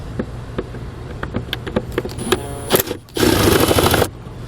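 Screws come loose on the airbox lid of a 2016 Chevrolet Colorado with a run of close, sharp clicks and ratcheting taps, then a brief dense buzzing burst near the end.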